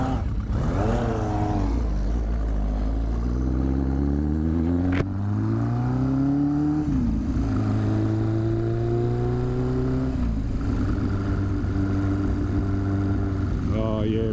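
A Suzuki GS1000 motorcycle rides up a road, its engine droning steadily up close and rising and falling in pitch as it revs and shifts.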